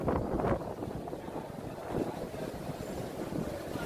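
Steady Category 4 hurricane wind blows and buffets against the microphone in a continuous rushing roar, with gusts rising and falling; no voices.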